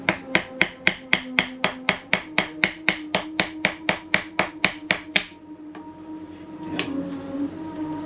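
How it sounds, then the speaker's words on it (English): A toffee hammer taps resin on a boat deck in a steady, rapid series of sharp knocks for about five seconds, then stops, leaving low background rumble. "let's try with my toffee hammer"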